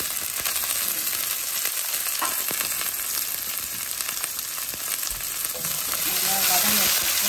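Chopped onion and chili sizzle steadily in oil in a pan, a dense, continuous frying hiss that stays close and even, with occasional stirring clatter and no talking.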